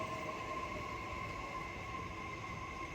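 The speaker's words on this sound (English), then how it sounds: "There's the subway." A subway train runs at a station in Kobe, Japan, heard as a steady, fairly faint mechanical rumble with sustained tonal whine and hum, no voices.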